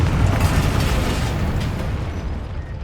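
The Confringo fire spell explodes in Hogwarts Legacy, a loud, dense blast of rumbling noise that fills the clip and slowly fades, with no voices.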